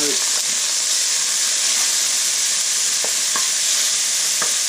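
Chopped garlic sizzles steadily in a couple teaspoons of hot oil in a stir-fry pan, a constant close frying hiss with a few faint clicks of stirring, no one talking.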